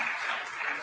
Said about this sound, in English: that's a long ass clap